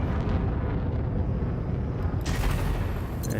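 Heavy spaceship cannons in Elite: Dangerous pound out a loud, continuous rumbling barrage during a space dogfight, with a brighter burst near the end.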